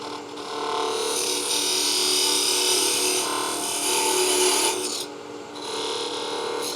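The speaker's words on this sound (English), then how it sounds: "I want to use a narrow parting tool so the grain aligns when the head and the body meet back up together." A narrow parting tool cuts into a spinning wooden salt and pepper mill blank on a lathe, making a sustained hissing scrape that rises and falls over several seconds with a brief dip near the end, and no talking.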